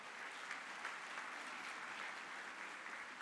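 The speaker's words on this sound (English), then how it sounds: "So please give them also a big round of applause." A convocation ceremony audience applauds in a large hall, a steady, even wash of many hands clapping at a distance, faint and uniform throughout without any voices.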